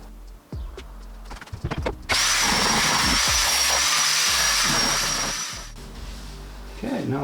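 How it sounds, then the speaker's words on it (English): An electric file shaves down plywood around a van window opening in an Iveco Daily campervan build, a loud continuous buzzing grind that starts abruptly after a few quieter knocks and runs steadily before cutting off near the end. "I take a little bit off from plywood with this electric file."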